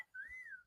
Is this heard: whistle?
yes